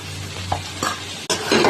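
Cauliflower and potato pieces fry and get stirred in oily spice masala, with soft sizzling and a few scraping spoon strokes against the pan, close and moderately loud.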